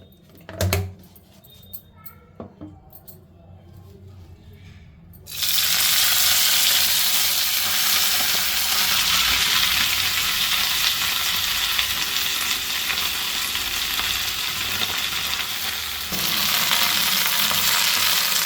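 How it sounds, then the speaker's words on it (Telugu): Chennangi (senna) leaves frying in oil in a bowl: after about five seconds of quiet with a few faint knocks, a loud, dense sizzle starts and holds steady to the end. "ఇందులోనే కొంచెం ఆయిల్ వేసుకొని ఆకు ఫ్రై చేసుకుంటున్నాను"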